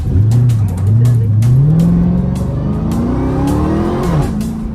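A Dodge Hellcat, a track-ready car, races on a public road, its loud engine revving hard through rising gear pulls, with a brief voice under the roar.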